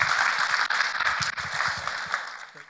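An audience applauds at a church mission talk about missionary work in Thailand, a dense steady clapping that fades out toward the end of the short burst.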